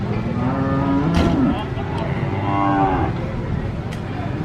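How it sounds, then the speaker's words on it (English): Cattle moo loudly and close by as they are unloaded from a truck, with several drawn-out calls overlapping one another. "You can hear the sound of cattle."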